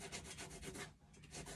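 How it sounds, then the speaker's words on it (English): Leather knife handle ends being sanded with a small fingerboard, a close, steady rhythmic rubbing and scratching in repeated strokes with a brief pause midway, no talking. "we'll refine that by sanding it down a little bit"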